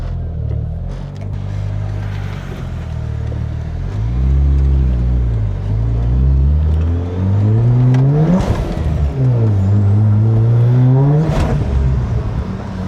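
A Mazda RX-8 rotary engine revs hard in repeated rising and falling sweeps during wheel spin, loud and close, with the pitch climbing and dropping several times and no voices.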